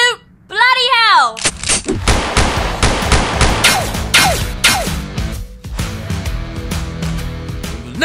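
Rapid bursts of gunfire in a shooting game, close and loud, with repeated sharp shots clustered over several seconds while voices talk throughout.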